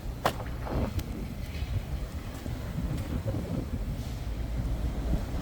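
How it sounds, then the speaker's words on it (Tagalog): Steady gusting wind buffets the microphone with a low, rumbling roar, shifting in strength throughout. "Pero parang gulo-gulo yung hangin eh."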